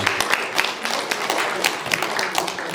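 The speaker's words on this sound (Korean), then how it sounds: "박수로 환영해 주시기 바랍니다." Audience at a residents' briefing for the Danggok station area applauding, a moderate, even patter of many hands clapping with no voices.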